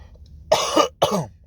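Two harsh, forceful coughs close to the microphone, the first longer and rasping, the second following after a brief pause.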